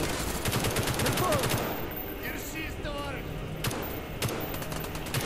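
Rapid game gunfire from Call of Duty Black Ops, including a newly picked-up Stoner machine gun, rattles in dense loud bursts at the start, then quieter scattered shots and clicks continue under a speaking voice.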